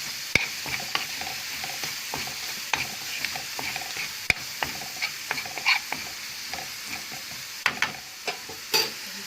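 Garlic and thyme fry in a pan with a soft, steady sizzle, punctuated by frequent sharp clicks and scrapes of a spoon stirring against the metal, close and clear with no talking.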